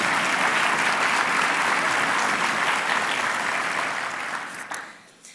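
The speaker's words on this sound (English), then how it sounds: "if you want to clap, you can clap." Dense, steady applause from a conference audience fills the room, holding loud and even before thinning out and fading toward the end.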